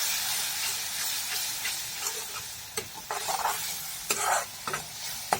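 Water hits garam masala frying in a pan, setting off a loud steamy hiss, followed by bursts of sizzling and the scrape and clatter of a spatula stirring, all close and without talk.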